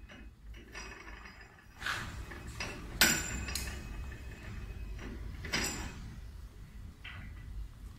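A paper roll being loaded onto an oblique paper stick machine and tightened, with a series of metallic clinks, knocks and sliding mechanical clatters, fairly quiet and close, no voices.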